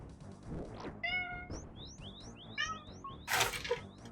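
A cat gives one short meow, followed by a run of bright chirping and whistling game sound effects from Old School RuneScape and a brief noisy burst near the end.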